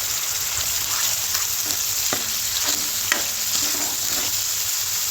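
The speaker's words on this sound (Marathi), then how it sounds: "आता ह्या मसाल्याला आपण मस्तपैकी भाजून घेऊया." Masala roasting in hot oil, a steady dense sizzle throughout with occasional sharp spoon taps and scrapes against the pan, close and even in loudness.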